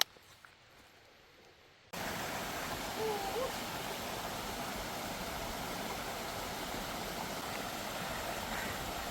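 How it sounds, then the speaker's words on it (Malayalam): After a quiet opening moment, a constant broadband rush of flowing river water sets in and continues steadily, fairly loud and close, in a forested valley in Dzukou Valley, Nagaland. "ഈ വെള്ളം ഒരു റിവർ ഒഴുകുന്നുണ്ട് അതിൻ്റെ സൗണ്ടാണ് ഇപ്പോൾ നമ്മൾ കേൾക്കുന്നത്"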